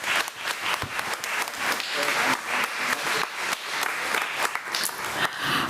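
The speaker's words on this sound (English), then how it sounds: "Please, another round of applause." Applause at a school board meeting honoring staff, with distinct individual claps in an uneven, fluctuating patter that swells and dips, moderately loud, with faint crowd murmur beneath.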